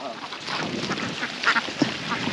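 Ducks on a duck farm quack in short bursts against a steady, noisy outdoor background, with a couple of louder calls standing out near the end.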